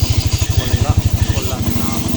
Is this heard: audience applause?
no